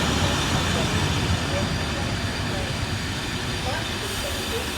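Two coupled Class 47 diesel locomotives pull carriages through Market Harborough railway station, a loud, steady rumble and hiss that stays at a constant level throughout.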